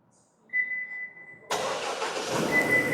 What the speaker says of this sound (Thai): แล้วก็กดสัญญาณสตาร์ทนะครับจนกว่ารถจะติดครับ